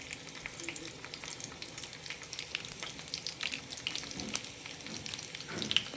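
Dried red chillies sizzle in hot oil as a tempering for moong dal rasam (pesara pappu charu), a continuous close crackling fry with scattered pops throughout.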